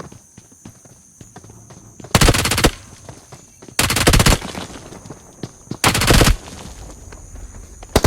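Automatic gunfire in a solo-versus-squad battle royale video game, with three loud bursts of rapid shots separated by quieter stretches of ambient game sound.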